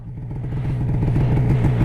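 Polaris RMK snowmobile engine revving while the sled churns through cattails, a close, loud, steady throbbing drone rising slightly over a couple of seconds.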